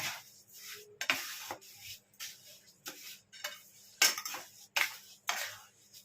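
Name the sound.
stirring grated raw mango with sugar in a pot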